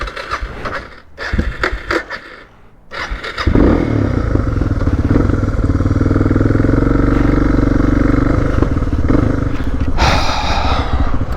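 A motorcycle starts up and rides out of Dublin, a few quiet clatters at first giving way to a loud, steady close-up engine drone with wind rush that holds throughout and swells brighter near the end.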